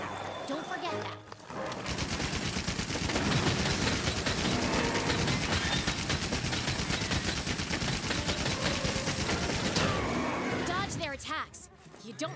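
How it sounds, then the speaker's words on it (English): Heavy bowgun firing during a monster fight in Monster Hunter World, a loud, dense run of rapid mechanical gunfire shots that carries on steadily for about ten seconds, with game sounds around it. "The heavy bowgun is a high-powered ranged weapon. It does a lot of damage and lets you use more powerful ammo."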